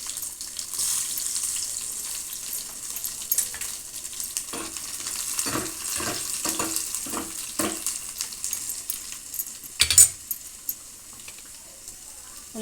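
Dried red chillies and crushed raw garlic hit hot oil, giving a loud, close frying sizzle. Irregular bursts of stirring and scraping follow, with a brief louder crackle near the end and faint background noise.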